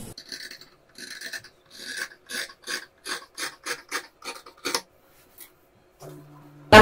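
Scissors cut through apron fabric in a quick series of about a dozen rhythmic snips, close and fairly clear, followed by a pause, a low hum and a sudden loud burst at the very end.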